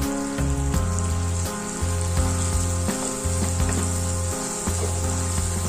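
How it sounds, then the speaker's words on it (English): Roughly blended peppers and onions fry with garlic and ginger in a pan, giving a steady, close sizzle with crackly texture throughout, while low rhythmic bursts, likely stirring or background music, pulse underneath. "I'll stir that around and allow it fry very well."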